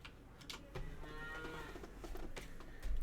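Cows mooing on a farm in Farmer's Dynasty, a long drawn-out low moo close by over a steady farmyard background, with no talking.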